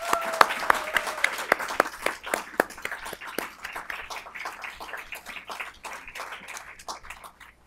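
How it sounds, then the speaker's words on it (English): Audience applause for length-of-service award recipients at an employee recognition ceremony, a steady wash of many hands clapping with some sharp individual claps near the start, sustained throughout and gradually thinning. "Let's give our length of service awardees a round of applause."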